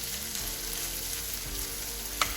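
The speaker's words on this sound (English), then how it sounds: "I'm going to cook the bacon and the chorizo for another 5 minutes" Bacon and Goan chorizo fry steadily in a pan, a dense, continuous sizzle and crackle close up, with a brief sharper clink near the end and no talking.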